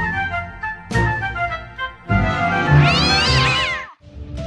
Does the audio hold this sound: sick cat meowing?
yes